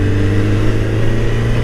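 A Suzuki Hayabusa motorcycle fitted with an Akrapovic exhaust idles and revs with a loud, steady, deep rumble, close by and with no talking.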